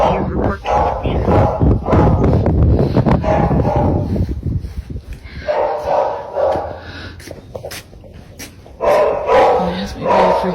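A pet dog barks from upstairs inside a house, with repeated loud, ragged bursts and whining that come and go across the clip, sounding close and echoey with no talk over it.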